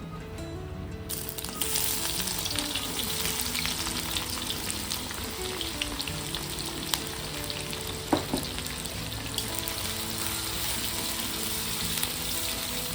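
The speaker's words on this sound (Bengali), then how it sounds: "পেঁয়াজ লাল লাল করে ভাজা হয়ে গেছে।" Chopped onions fry steadily in mutton fat for a special ghugni, a dense continuous sizzle with occasional stirring scrapes and a brief clink near the middle, close and without speech.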